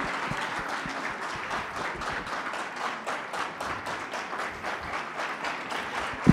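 An audience applauds actor Harsha Vardhan at the Court movie success celebration, with steady, dense clapping from a large crowd that holds at an even level for several seconds with no talk over it.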